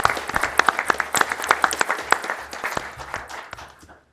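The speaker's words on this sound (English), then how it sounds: "He also deserves a huge thank you and round of applause." Applause at a Cecil Township monthly meeting, a small group clapping in a room with distinct individual claps that build briefly and then taper off to silence over a few seconds.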